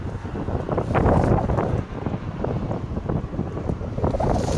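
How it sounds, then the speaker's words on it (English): Strong wind buffets the microphone in a continuous low roar with gusty surges, loud and close, with no voices. "I got my cones out, but it's pretty windy."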